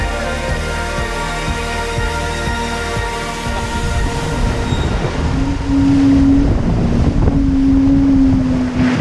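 A racing sailboat cuts through open sea in about 17 knots of wind, with steady wind roar, rushing water along the hull and a low rig hum that thickens midway, loud and close with no talk.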